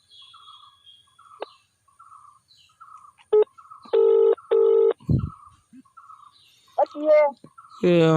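Telephone keypad dialing tones sound as a quick run of loud, steady beeps while redialing a phone number, with brief pauses between them and a voice speaking before and after.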